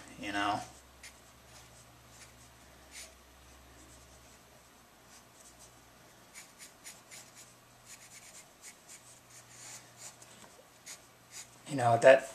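A pencil sketching a head on paper makes faint, close scratchy strokes in short bursts, with a voice speaking briefly at the start and the end.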